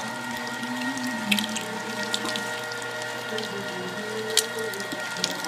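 Meat grinder grinding meat for homemade sausage, a steady motor whir with a shifting tone and occasional squishy clicks and ticks, close and moderately loud, with no talk.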